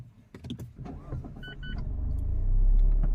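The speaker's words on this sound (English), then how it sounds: "let me start my car" A car engine cranks and catches near the end, settling into a low idle after some brief cabin clicks and a short electric whir.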